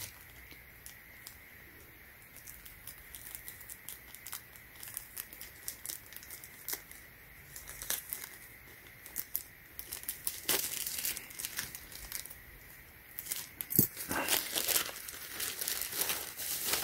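Plastic packaging around a Supreme x Burberry box logo tee is cut and torn open with close, crinkly rustling that grows busier and louder toward the end, with sharp tearing bursts.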